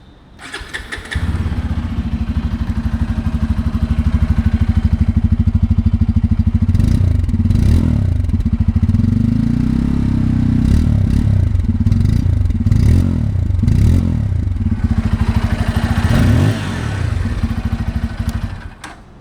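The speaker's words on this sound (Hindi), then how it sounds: "अब भाई एग्जॉस्ट साउंड सुनते हैं N250 की।" A 2024 Bajaj Pulsar N250 motorcycle exhaust starts up and idles loudly nearby, then gets several quick, deep revs in a row before settling back to a steady idle and stopping.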